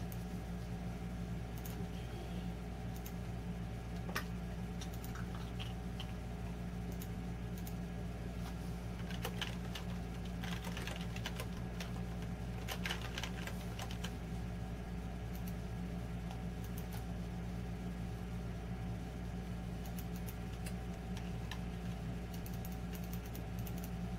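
Computer keyboard keys on a Falcon Northwest Fragbox PC running Windows for Workgroups 3.11, sparse irregular clicks and short bursts of typing over a constant fan and electrical hum, close and faint.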